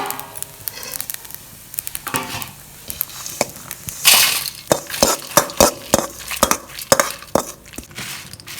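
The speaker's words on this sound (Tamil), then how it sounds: "எல்லாம் வறுத்தாச்சுப்பா. இதை ஒரு பிளேட்டில் மாற்றி வச்சுக்கலாம்." Roasted spices for a chicken kulambu are scraped and moved from a pan onto a plate, with a quick run of sharp clinks and scrapes of a metal spoon against cookware, close by.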